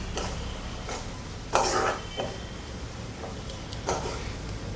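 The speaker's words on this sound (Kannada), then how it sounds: "ಅಲ್ಲಿವರೆಗೂ ಚೆನ್ನಾಗಿ ಈ ಥರ ಫ್ರೈ ಮಾಡಬೇಕು" A spoon stirs and scrapes pudina (mint) paste frying in a pan, with sharp clinks of metal on the pan at irregular moments over soft background noise.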